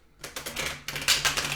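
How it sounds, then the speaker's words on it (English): A deck of tarot cards being shuffled by hand, several quick riffling bursts of crisp card flutter in close succession, near and clear with no voices. "I'm just now going to be giving them a little bit of a shuffle"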